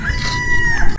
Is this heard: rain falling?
no